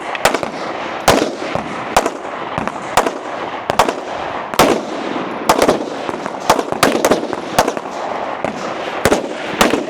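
Rapid gunshots ring out at a practical shooting competition stage, a string of sharp, loud cracks in quick irregular bursts, one shooter firing through the course with no talk.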